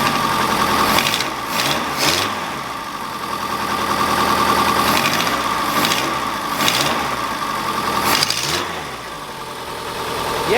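Mk2 VW Polo engine idling steadily with an exhaust leak at the flange, a loud close rough chuffing rumble with rhythmic ticking pulses that swell and fade, no talk.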